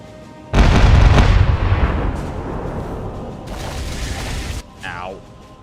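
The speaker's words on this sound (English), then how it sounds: "The right side, ready to fire! Load the buckshots!" Ship cannons loaded with buckshot fire in the Caribbean Legend pirate video game, a loud booming burst followed by a long rumbling decay, then a second softer blast, with a brief voice at the end.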